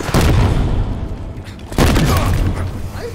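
Heavy, booming gunfire in Halo Infinite multiplayer: two loud, deep blasts a second or so apart, each trailing into a rumbling roar, with a voice faintly present underneath.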